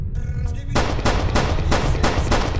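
Gunfire from a gun in the Skibidi Toilet horror video game: a rapid series of four or five loud, sharp shots at an even rhythm, over a steady low rumble of game ambience.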